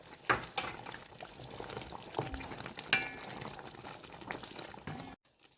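Kare kare peanut sauce being stirred in a pot after toasted rice flour is added, with bubbling liquid, soft scraping strokes and a few sharp clinks of the spoon against the pot, ending in near silence.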